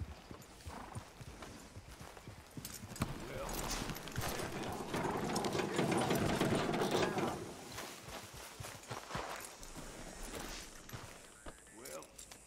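Horse hooves clip-clop in a steady walking rhythm in the game Red Dead Redemption 2, with creaking tack and harness sounds alongside, and a swell of louder clopping in the middle.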